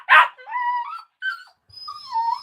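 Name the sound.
puppy whimpering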